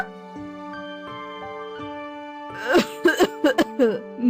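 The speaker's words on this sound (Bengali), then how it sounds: "কাশির শব্দ শুনতে পায়" A series of short, harsh coughs comes in quick bursts over sustained background music, close and fairly loud.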